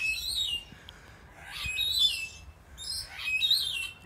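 Purple-naped lories calling at Chester Zoo, with three bursts of shrill, squeaky chirps and screeches about a second and a half apart, fairly close and loud over a quiet background.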